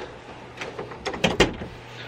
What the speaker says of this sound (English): let me close this door a little bit